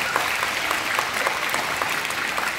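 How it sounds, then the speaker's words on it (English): A crowd gives sustained, loud, even applause at a check presentation ceremony, a dense continuous clapping with no talk over it. "So if you will join me in giving them a round of applause."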